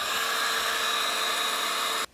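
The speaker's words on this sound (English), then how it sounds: "Now I need to round all the edges with this tapered bit" A Dremel rotary tool fitted with a tapered bit rounds the edges of black foam, giving a steady, high-pitched whine that holds close and loud throughout before cutting off abruptly at the end.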